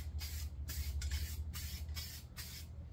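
Spray paint can laying a light coat of M81 woodland camouflage: about five short hissing bursts with brief gaps, close and fairly loud over a steady low hum.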